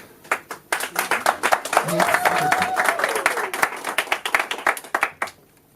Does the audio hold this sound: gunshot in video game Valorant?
no